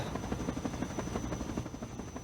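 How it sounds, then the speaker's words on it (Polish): A helicopter lands in Garry's Mod, its steady rotor chop beating rhythmically under a constant high engine whine, loud and close, with no voices. "Helikopter już wylądowany."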